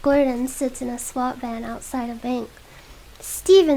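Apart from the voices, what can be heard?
No distinct noise like a dog, phone or traffic.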